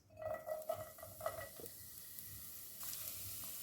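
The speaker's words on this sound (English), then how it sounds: "I'll stir fry this on low heat for 2 minutes." Chopped onions stir-frying in vegetable oil in a non-stick pan over low heat, a steady close sizzle with several light scraping clinks of a utensil against the pan early on, no voices.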